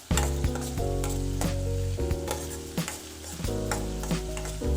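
Beans and potatoes stir-frying with green chili, garlic and coriander paste in a pan, a loud continuous sizzle with repeated stirring knocks and scrapes.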